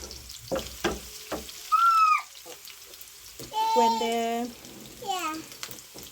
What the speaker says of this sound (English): We let our onions to cook.